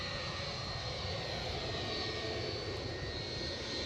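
A JetBlue jet departing Edinburgh Airport for New York roars loudly and continuously, a dense, close engine blast with a high whine running throughout and no talking.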